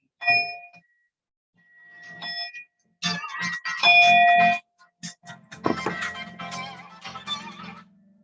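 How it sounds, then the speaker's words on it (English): A phone rings with bright electronic chime tones, several short melodic bursts repeating across the moment, clear and close in a quiet room. "my phone rang"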